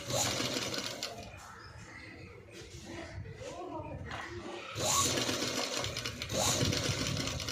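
A sewing machine stitches piping onto a boat-neck blouse, its steady mechanical whir running in bursts with brief pauses, close and fairly loud beneath a voice talking over it.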